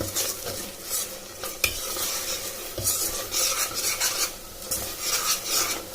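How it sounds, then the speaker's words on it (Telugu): Pulao masala paste sizzles in oil while a metal spoon stirs and scrapes against the pan in repeated, uneven strokes. The clatter is close and lively, with no voices. "మసాలా పేస్ట్ అంతా బాగా ఉడికి ఆయిల్ ఇలా పైకి తేలిన తర్వాత"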